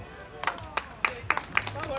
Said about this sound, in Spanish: con este aplauso